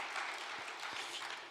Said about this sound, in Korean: 우리 박수 한번 하겠습니다.